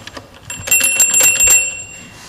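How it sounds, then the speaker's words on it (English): A small bell is rung during a church worship service's children's story, giving a bright, sustained metallic ringing with clear high overtones that swells for about a second and then fades, heard alone. "We have a bell on this one, too."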